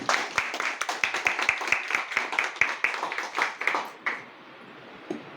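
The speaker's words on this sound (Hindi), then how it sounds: "तो सबसे पहले तो आप सबका स्वागत होना चाहिए जोरदार तालियों के साथ" An audience at a meeting claps to welcome everyone. The claps are distinct, fairly regular and moderately loud, then stop abruptly, leaving a quiet room with faint sounds.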